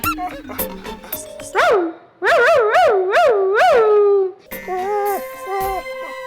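A human voice imitates a dog in a mimicry performance at the Kerala school arts festival, with short yelps followed by a rapid series of rising, whining barks and a few more yips.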